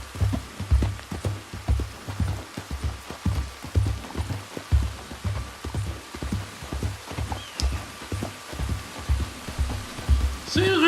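Rain in the open-world Western game Red Dead Redemption 2, a steady wash of falling rain under rhythmic horse hooves clip-clopping along, with low rumbling, fairly loud and continuous throughout.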